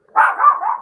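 Dogs indoors in a home give one short, close bark or yip, heard alone with no talking over it.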